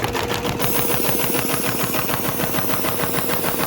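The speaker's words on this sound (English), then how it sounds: "What you hear is an air cooler." An air cooler fitted to a SEWPRO 273-6040 automatic sewing machine runs with a steady loud whirring hum and a fast pulsing rhythm, continuous and close, with no talk.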